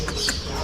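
A brief cooing bird call, like a pigeon or dove, sounds at a pet market in Shivajinagar over a busy background murmur.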